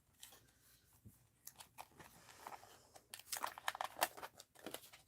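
Scissors snip through paper for a mixed-media art journal in a string of crisp, close cuts, sparse at first and then quicker, with crinkling between them and no talk.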